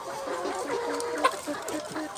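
Young laying hens on a small poultry farm clucking, a busy chorus of short repeated clucks from several birds, close and overlapping, with one sharper call standing out.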